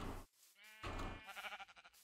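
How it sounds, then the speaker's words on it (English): A sheep in the Minecraft video game bleats twice in quick succession, short wavering game sounds heard clearly on their own. "We've got our first sheep."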